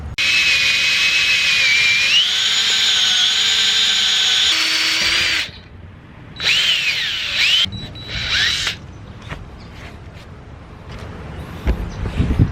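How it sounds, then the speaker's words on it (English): A power drill bores a hole for a gantry crane build, running loud and close with a steady high whine for about five seconds, then shorter bursts before stopping. "So, one hole is drilled."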